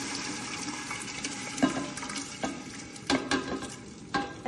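Jareesh (cracked wheat) goes into a pan of softened onions, bringing a steady sizzle broken by several sharp scraping stirs and clinks from the pan.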